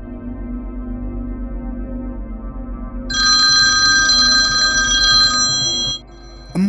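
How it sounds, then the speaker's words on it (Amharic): A telephone rings in a drama scene, giving a bright electronic ringtone for about three seconds, loud and clear over soft low background music. "እማዬ ስልክ እየጠራ ነው"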